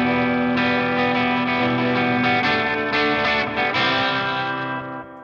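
Electric guitar played through a delay pedal on a pedalboard feeding a studio reverb, sustained chords and notes ringing out with layered repeats, loud and close, fading toward the end.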